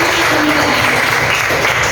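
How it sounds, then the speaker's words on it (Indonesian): An audience claps for Joy at a gathering, a dense, loud and steady burst of applause filling the whole moment. "beri dulu tepuk tangan buat Joy"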